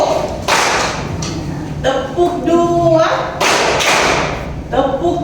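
A classroom group claps in quick bursts of a counted clapping game while children's voices chant and call out over the clapping, loud and close.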